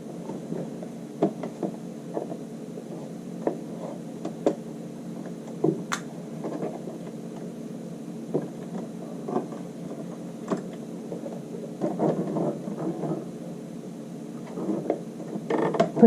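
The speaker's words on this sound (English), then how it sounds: "Let's go ahead and start sewing." Sewing machine stitching a child's shirt sleeve, a soft steady mechanical whir with faint clicks and creaks running throughout, fairly quiet and close.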